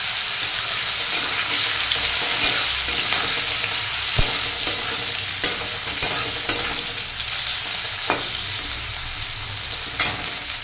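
Peeled boiled eggs frying in a pan with salt and turmeric, a continuous close sizzle broken by occasional sharp spatula clicks and stirring scrapes, with no talk.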